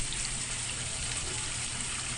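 Water from a pumped vortex fountain edged with stones flows steadily over its rim, a continuous close, even wash and splash with no talk.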